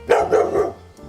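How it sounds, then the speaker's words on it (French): A dog gives a short, loud burst of three close barks in quick succession, then falls quiet. "C'est un chien."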